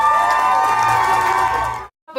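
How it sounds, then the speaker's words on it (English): A loud crowd cheers and whoops for the band as applause swells and holds steady, then cuts off abruptly before a brief burst returns at the end. "So without further ado, big round of applause for"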